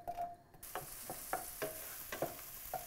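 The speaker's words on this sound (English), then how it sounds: "heat up the oil, and then onion first before the garlic" Onion fries in hot oil for a butternut squash soup, giving a steady close sizzle broken by a handful of sharp stirring scrapes spaced about half a second apart.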